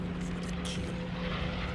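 Warplanes drone overhead in the World War II shooter Call of Duty: World at War, a steady, even propeller-engine rumble holding at constant loudness throughout, faint and unbroken, with no talk.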